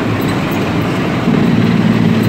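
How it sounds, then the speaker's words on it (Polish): A truck crossing the George Washington Bridge inbound from Fort Lee downshifts and engages its engine brake, a loud, close low rumble that thickens into a stronger droning growl partway through and holds steady. "Redukcja biegu i engine brake."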